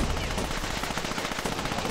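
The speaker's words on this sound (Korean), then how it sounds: "포격 아니야?" Continuous dense battle noise from a Sudden Strike 2 World War II strategy game match, with a steady roar of gunfire and explosions that could be artillery shelling, loud and unbroken throughout.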